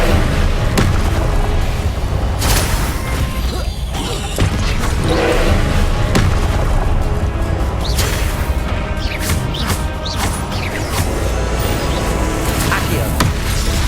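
Incendio fire spell casting in the video game Hogwarts Legacy amid a busy duel, loud sustained roaring and crackling broken by repeated booms, crashes and whooshing bursts.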